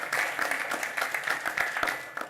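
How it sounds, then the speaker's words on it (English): Forum audience applauding at a 2018 economic forecast event, a steady dense patter of many hands clapping throughout at moderate distance, with no voices over it. "how about another round of applause?"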